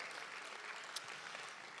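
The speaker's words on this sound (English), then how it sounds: "I would like you to clap your hands very loudly to thank your teachers for bringing you here." A school-group audience claps to thank their teachers, a soft, distant, steady patter of many hands with no voices over it.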